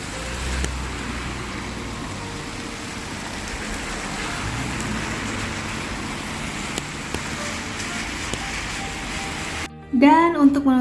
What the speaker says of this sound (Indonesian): pada hari aku tato itu Seoul hujan seharian ya, dari pagi sampai malam.